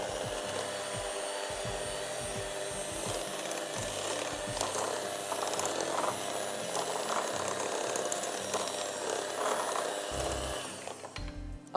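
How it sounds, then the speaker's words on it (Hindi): An electric beater runs in brownie batter made with cocoa powder and flour, giving a continuous close whirring drone with rattling gear-like pulses that cuts off just before the end. "एक दफा जरा मैं चला लूं बीटर।"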